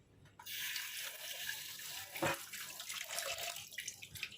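Raw shrimp being washed under a running kitchen tap, a steady close gush of water into a sink with brief splashes as they are handled, no voices.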